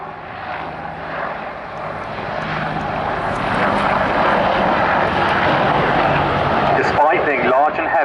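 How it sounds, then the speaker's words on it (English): An Apache attack helicopter performing a 270-degree wingover at the Duxford summer air show, a loud sustained rotor and engine roar that swells and holds, with a commentator's voice over the public address. "the Apache is highly maneuverable, as you can see with this 270-degree wing over"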